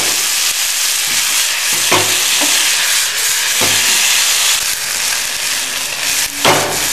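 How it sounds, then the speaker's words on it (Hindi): Boiled corn is sautéed and tossed over a full flame, a continuous loud sizzle broken by several sharp scraping and clattering strokes of the spatula against the pan. "फुल फ्लेम पर हमें सबको सौते करना है।"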